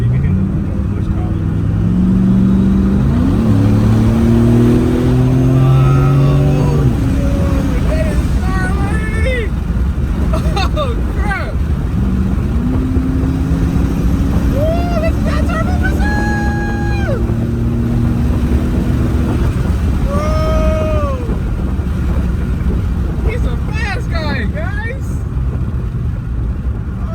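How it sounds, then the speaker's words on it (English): A turbocharged 2007 Ford Mustang GT pulls hard through the gears, its engine rising loudly in pitch with repeated upshifts and a turbo whine, while people talk inside the car. "we're gonna do a little pull on this little Mustang and see what she's got"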